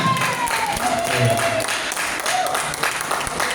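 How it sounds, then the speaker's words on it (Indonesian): An audience at an Islamic business seminar keeps clapping in a dense, steady wash, with amplified speech and music-like tones running over it. "Yang semangat untuk tepuk tangannya."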